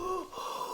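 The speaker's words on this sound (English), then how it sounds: "he's heavily breathing" Heavy, wheezy breathing of a man, a single close, sustained raspy breath with a tonal whistle through it, steady and fairly loud with no talk.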